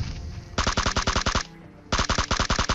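Automatic gunfire in the mobile shooter PUBG Mobile, two loud, close rapid bursts of evenly spaced shots with a short pause between them.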